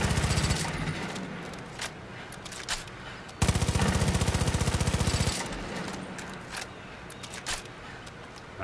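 Rapid automatic gunfire in Far Cry 5: dense, loud bursts of shots, with one sustained stretch of rapid rattling fire in the middle and scattered single reports around it.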